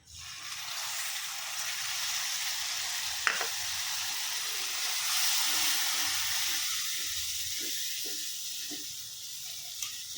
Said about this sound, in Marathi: तर आता आपण ह्याच्यामध्ये टाकूया दूध.